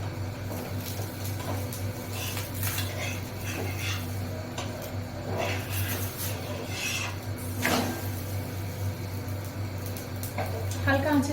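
A paratha toasts in a pan over low heat, a gentle continuous sizzle with scraping and rubbing as it is pressed and moved, a low steady hum beneath and brief talk at points.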